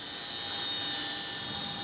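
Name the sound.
helicopter flying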